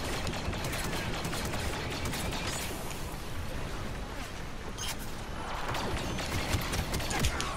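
Rapid blaster gunfire from a Star Wars Battlefront II battle crackles in dense, continuous bursts with sharp transients throughout, loud and close, layered over busy game noise.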